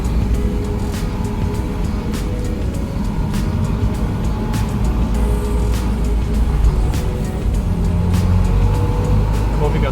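A car drives through a curved two-lane tunnel on the Splügen Pass in the Alps, its engine and tyre roar filling the enclosed space with a constant loud drone and regular faint ticks.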